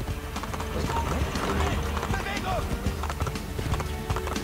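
Horse hooves clip-clopping at a gallop in the Assassin's Creed 2 video game, set in the Vatican, with a steady close rhythm under in-game music and a voice talking throughout.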